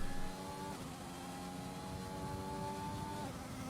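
Formula 1 car engine in the F1 2020 racing game at the French Grand Prix, a steady high-pitched whine holding constant pitch, moderately quiet and alone, with a brief louder onset at the start.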